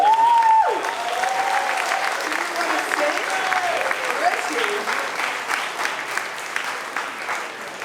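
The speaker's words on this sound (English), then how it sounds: "Can we just give a very quick birthday round of applause to Sarah Hallett, who's in here?" A birthday round of applause for an audience member at a libertarian rant competition at PorcFest 2021 fills the room, starting just after a speaker's voice and then holding steady as sustained clapping from the crowd.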